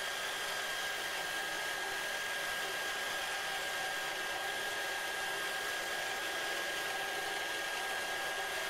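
A shaft spins steadily on a lubricant friction test machine, giving a constant, even whirring drone with no change in pitch or level throughout.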